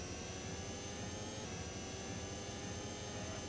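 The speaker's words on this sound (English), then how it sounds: "There's the airplanes." Airplanes fly overhead in a futuristic racing video game, a steady, dense engine roar droning on at an even level throughout, with no talking.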